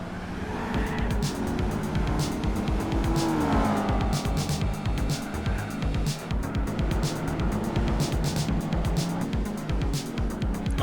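A Ford Mustang race car engine in the video game Gran Turismo 4 roars loud and continuous, with tire squeal and another racing car close by, no talk.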